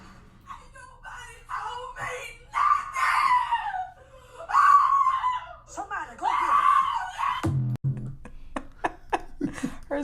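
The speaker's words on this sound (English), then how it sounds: "Her scream is hilarious." A woman screams in a played video clip, several drawn-out loud shrieks in bursts with sharp breaks, followed by short clicks and thumps.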